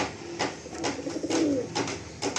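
Kalanka high flying pigeons cooing close by, soft throaty coos in a few repeated bursts over a steady room background.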